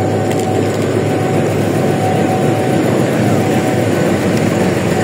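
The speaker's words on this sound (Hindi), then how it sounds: "ग्रीन लाइन एक्सप्रेस आ चुकी है" Green Line Express train arriving at a station, a loud continuous rumble and rolling drone with a faint steady tone, heard close and unbroken.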